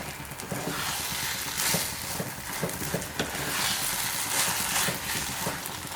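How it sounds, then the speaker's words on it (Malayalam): A thickening coconut milk mixture for Vishu katta stirred with a ladle in a pan, giving a continuous bubbling sizzle with frequent scraping and tapping strokes, close and steady. "നമ്മൾ ഇതുപോലെ തവി കൊണ്ടൊക്കെ ആക്കുമ്പോൾ നന്നായിട്ട് നമുക്ക് ഇതുപോലെ ആക്കാൻ പറ്റണം"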